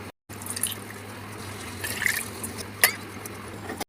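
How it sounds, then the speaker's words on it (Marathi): Water splashes and trickles steadily into a cooking pot, poured from a small bowl, with a few brighter pours and clinks, fairly close and quiet, no talking. "याच वाटीने याच्यामध्ये मी तीन वाटी पाणी घालत आहे"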